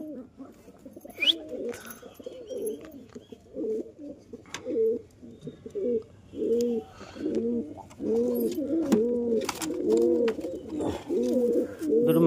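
Pigeons coo close by in a rhythmic series of soft, rolling calls that grow more frequent and steady toward the end, with a few faint background clicks.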